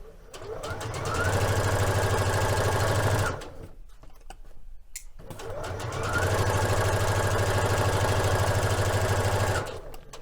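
A sewing machine stitches along a dart line in fabric, including a backstitch at the start: two long steady whirring runs separated by a brief quiet pause, close and clear.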